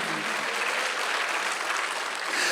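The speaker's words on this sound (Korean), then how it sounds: "빨리 박수 한번 해주세요." Steady applause from a church congregation during a Sunday worship service, a dense, even wash of clapping that holds at full strength for the whole stretch with no voices on top.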